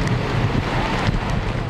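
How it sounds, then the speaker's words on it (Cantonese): Strong gusts from Super Typhoon Yagi under a No. 8 gale signal in Hong Kong roar continuously into the microphone as a dense, rumbling wind wash, with rain and surging waves at the shore blending into the noise. "多區大風大雨。"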